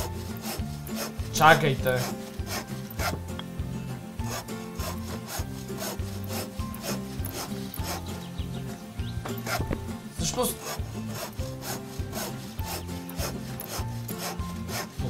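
A hand saw cuts through wood in a steady back-and-forth rhythm of rasping strokes, close and continuous, while a person speaks briefly over it.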